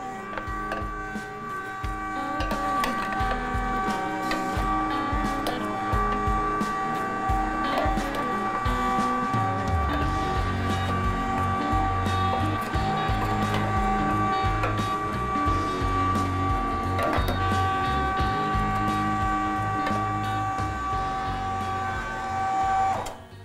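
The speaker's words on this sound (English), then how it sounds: "We'll get a couple pieces down in there. I never like to start a grinder dry," A LEM electric meat grinder hums and whirs steadily as elk and boar meat is fed through, a continuous close mechanical drone with knocks and shifts in load midway, and someone speaks briefly.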